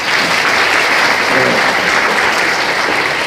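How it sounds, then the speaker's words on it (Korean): Sustained, dense applause from a large audience at a Busan citizens' civic forum on building an independence movement memorial park and history hall, steady and loud throughout with no gaps. "큰 박수로 부탁드리겠습니다."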